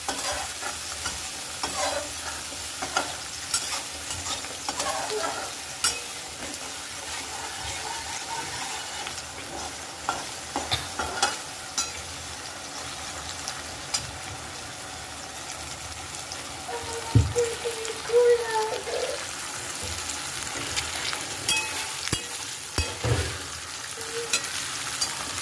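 Tomato and chili being stirred in a frying pan for Maggi noodles, a steady soft sizzle with intermittent scraping stirs of the spoon, close and moderate in level, no talking.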